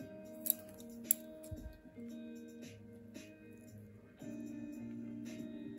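Small scissors snipping candles on a mame Japanese black pine bonsai, two sharp quiet clicks early and a faint rustle, with a low hum in the background.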